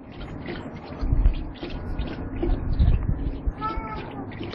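A cat meows a few times close by, the cries mixed with a person talking in Spanish and low background rumble.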